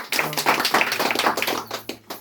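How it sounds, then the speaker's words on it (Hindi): An audience claps together in a brief burst, a dense patter of hands lasting a couple of seconds before thinning out and tapering off near the end, with no talk over it. "जोरदार ताली सर के लिए।"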